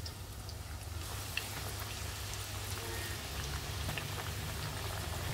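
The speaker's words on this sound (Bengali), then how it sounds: "আগে হাই দিয়ে তেলটা গরম করে নিয়ে আমি এখন চিপসগুলা ভাজতেছি।" Homemade potato chips frying in hot oil at medium heat, giving a steady, dense sizzle and crackle like rain that runs evenly throughout with no talking.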